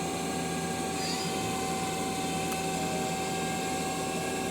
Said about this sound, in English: The main spindle is running at 1500.